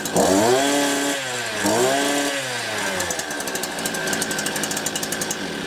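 Petrol engine of a HYMT5200X multi-tool firing up on a warm start, revving twice in rising surges and then settling into a fast, buzzing idle, loud and close with no talking.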